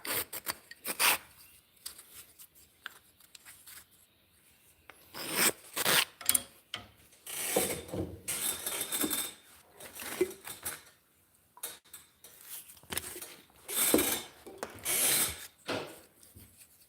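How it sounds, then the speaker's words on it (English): Small wooden mortises being cut by hand for Turkish drop spindles, giving irregular bursts of rasping, scraping strokes with short pauses between them, close and moderately loud, with no talking. "So we're basically cutting out little mortises."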